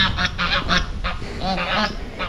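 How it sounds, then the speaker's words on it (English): Geese honk loudly and close by in a jungle village near the Belize–Mexico border, a run of repeated harsh calls in quick succession with little pause. "The geese are worse than dogs."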